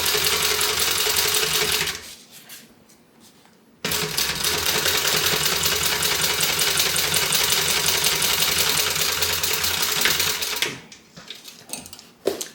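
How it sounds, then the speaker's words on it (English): A sewing machine top stitches a tote bag in fast, steady mechanical runs, stopping briefly once before a long continuous stretch of stitching, close and fairly loud. "And we just top stitched in the tunnel."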